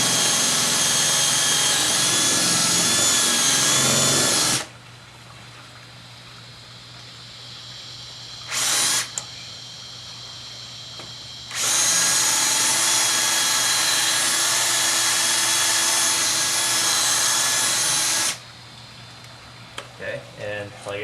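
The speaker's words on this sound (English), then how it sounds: "you want to make sure you drill enough for the dimples on here to sit flush on the door" Power drill boring holes into a door to mount a surface lock, two long loud whining bursts separated by a quieter pause with a brief blip, up close, with faint low hum between.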